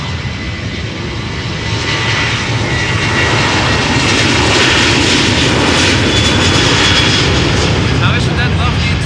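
A Boeing 737-800 jet in Wenche Foss livery, nine years old, departs Amsterdam Schiphol for Copenhagen. Its engines hold a loud, steady broadband roar that swells slightly and then stays level, with faint talk underneath.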